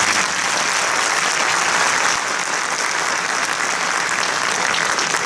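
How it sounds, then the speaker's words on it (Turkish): Sustained, dense applause from a concert audience fills the whole stretch, steady and fairly loud, with no voices breaking through. "Arkadaşımıza biraz daha bir alkış."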